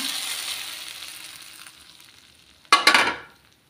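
A soft sizzle fades away, then a sudden loud burst of hissing as hot oil tempering hits cooked masoor dal, dying down within a second.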